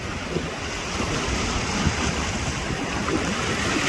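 Ocean surf washes in a continuous roar at the seashore, mixed with gusty wind buffeting the microphone, steady and close throughout.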